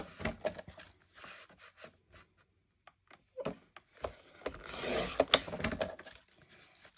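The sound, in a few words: cutting 1-inch paper strips off a page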